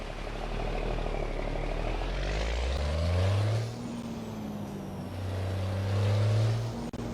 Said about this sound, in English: Peterbilt, just a little Peterbilt. We're pulling a Chevron tanker.